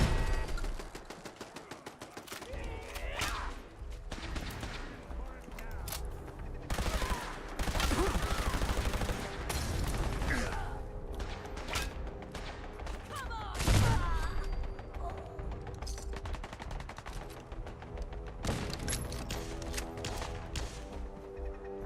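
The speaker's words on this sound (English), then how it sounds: "Somebody's got a MIRV launcher." Rapid volleys of launcher fire and booming explosions from a MIRV launcher in a video game, dense and loud throughout, with repeated bursts and heavy blasts layered over game noise and some voice.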